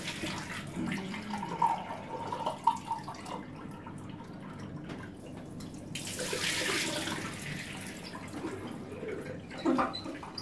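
Water runs from a tap into a sink as someone rinses off after shaving. The splashing rises and falls at moderate loudness, with scattered drips and small knocks nearby and no speech.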